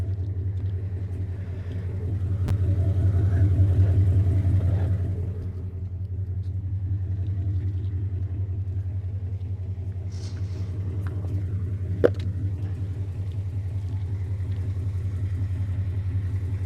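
A 2019 Ford Mustang GT engine idles on a ramp in a garage, a deep steady rumble that swells briefly near the start, with a few faint clanks and a sharp tap later on.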